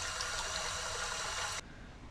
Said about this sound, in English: it is pulling the water out of the tank